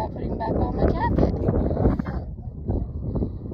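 Wind gusts across a microphone on a hilltop near Walkerville, Montana, a steady low rumbling buffet that swells and eases, loud and close, with people talking under it.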